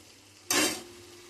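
A single short scrape of a spoon stirring gourd and dried prawn curry in a pan, a soft sizzle swelling briefly and then fading to a quiet simmer.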